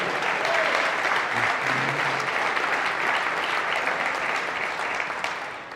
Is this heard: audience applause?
yes